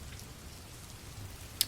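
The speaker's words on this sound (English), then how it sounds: "It's that little thunderstorm that's going on out there, but it's raining heavy. It's pouring hard." Heavy rain patters outside during a small thunderstorm, a faint, steady wash of drops with a low rumble underneath and one sharp tick near the end.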